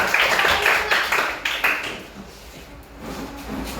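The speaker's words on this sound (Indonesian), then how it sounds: "Tepuk tangan untuk kelompok 1" Applause for the first group at a Indonesian group activity, a burst of many hands clapping that is loud for about two seconds and then thins out into scattered claps and room noise.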